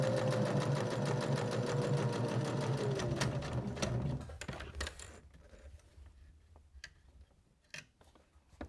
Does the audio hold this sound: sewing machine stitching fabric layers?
yes